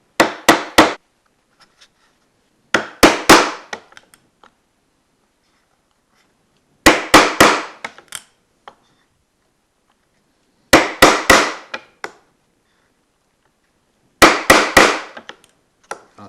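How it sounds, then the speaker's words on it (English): A wooden mallet strikes a chisel chopping dovetail sockets in a wooden board, sharp loud blows in five separate bursts of three or four rapid hits, each burst followed by silence. "use a chisel to chop the sockets out between the dovetails"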